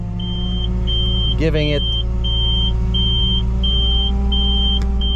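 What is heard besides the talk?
hook lift dumpster truck engine revving with throttle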